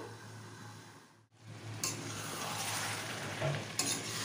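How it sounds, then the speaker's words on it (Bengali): Mutton for a Bengali kosha curry sizzles and fries with spices in a pot while being stirred, a steady close crackle with brief scraping movements and no talk. "ভালো করে মশলার সঙ্গে অনেক সময় ধরে কষাতে হবে"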